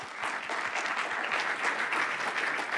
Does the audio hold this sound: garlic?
no